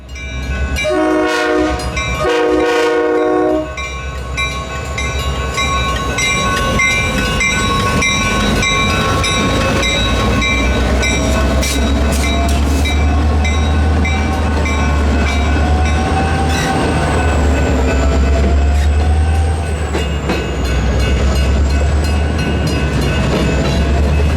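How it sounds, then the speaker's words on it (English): Reading and Northern freight train led by an SD38 and a GP39RN locomotive, with loud horn blasts early on over a steady heavy diesel rumble as the train rolls past for the length of the clip. "my third train of the day powered by an SD38 liter and a GP39RN"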